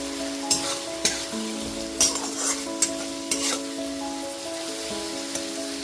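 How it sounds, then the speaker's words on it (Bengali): Ginger, green chili and garlic paste stir-fried with onions in a pan, a steady sizzle broken by scraping spatula strokes and several sharp clacks against the pan, with no talking. "আদা, কাঁচা লঙ্কা, রসুনের পেস্টটা দিয়ে দেওয়ার পর খুব ভালো মতো পেঁয়াজের সাথে কষিয়ে নেব"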